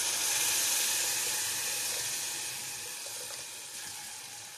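Tomatoes hit a hot pan for an okra and lamb stew, setting off a steady, hissing sizzle that fades gradually. No one speaks.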